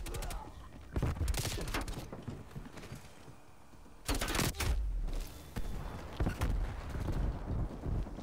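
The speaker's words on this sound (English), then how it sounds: "What was that explosion?" A video game match erupts with loud bursts of explosions and gunfire-like blasts, with heavy booming hits clustered near the start and again later amid continuous battle noise.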